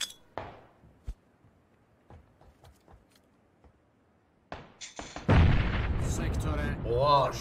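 A blast in the battle-royale game PUBG bursts out about five seconds in, loud and dense, after several quiet thumps and pops; the roar holds for a couple of seconds before fading.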